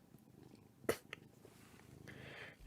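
A 4-year-old house cat purrs softly up close beside a podcast microphone, a quiet low rumble broken by a sharp click and a smaller tap near the start.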